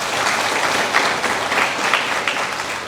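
At a school graduation ceremony, an audience claps loudly and steadily in dense, sustained applause that fills the hall, with no voices standing out.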